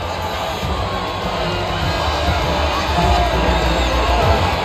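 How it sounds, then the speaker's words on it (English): A grandstand crowd roars and cheers at the finish of the Japanese Grand Prix in the F1 25 video game, a loud continuous wall of cheering that swells slightly toward the end. "The crowd roar their approval for Yuki Tsunoda."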